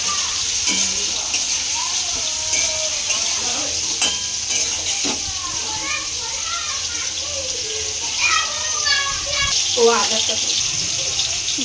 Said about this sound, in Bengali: চিংড়ি মাছটা এখন ভাজা হচ্ছে, আর একটু ভালো করে ভেজে নেব।